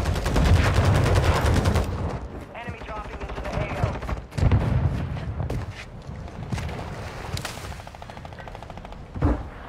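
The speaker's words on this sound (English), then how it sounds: "I'm hearing shots from in here" Gunfire in a multiplayer shooter video game: bursts of rapid shots, some near and loud, others more distant, crackle through most of the stretch, with players talking over them.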